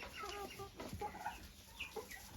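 Turkeys and chicks feed on cut grass, their soft clucks and chirps scattered and faint against a low background.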